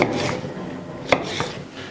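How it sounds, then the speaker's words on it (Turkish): A knife chops a seeded kapya red pepper into large pieces on a cutting board in a home kitchen, giving a few sharp, close knocks spaced unevenly, with soft scraping between them. "Bunları birazcık iri doğrayacağız."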